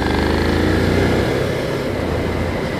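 A Suzuki SV650 V-twin motorcycle pulls in fourth gear, its engine droning loud and close with a rough, pulsing note that eases slightly toward the end.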